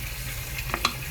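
Mortadella stirred and frying in a pan, a steady sizzle with a couple of quick scraping utensil clicks near the end, close and moderately loud.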